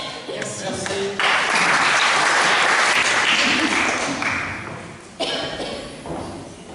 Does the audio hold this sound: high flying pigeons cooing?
no